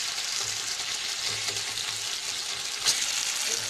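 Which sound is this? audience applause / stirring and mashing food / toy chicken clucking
stirring and mashing food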